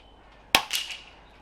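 A single sharp rifle shot fired while zeroing a HIKMICRO Alpex Pro thermal scope, a loud crack followed by a brief decaying echo, with no talk.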